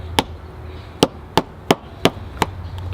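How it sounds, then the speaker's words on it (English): Six sharp hammer strikes on a tough seed shell, irregularly spaced and close, each a crisp crack standing out over low room hum. "This also has a hammer on it. I might have to hammer these."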